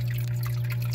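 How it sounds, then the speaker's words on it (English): A sump pump runs steadily as it empties water from its pit during a float-switch install, a constant low motor hum with dripping, trickling water over it, close and even throughout. "I'll let it pump all the way down and see if there's any water level below that."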